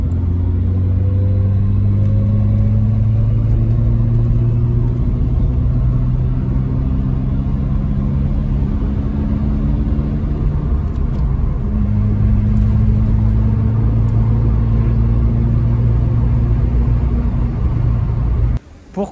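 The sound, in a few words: Mazda RX7 1984 rotary engine running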